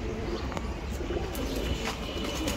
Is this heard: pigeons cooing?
yes